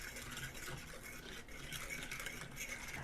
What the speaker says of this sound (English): Stir that bad boy up.